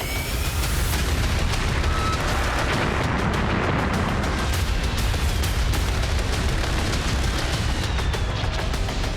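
Bomb blast in released military footage of a strike on a fighter in southern Lebanon, a loud sustained rumbling roar with crackling bursts filling the whole stretch, no voices.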